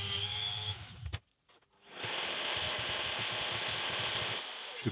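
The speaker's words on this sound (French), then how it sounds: "Je perce mon passage de câble." A power drill bores a cable passage through the baseboard of a model railway layout, a brief whine, a short pause, then a steady grinding cut held for a few seconds, close and moderately quiet.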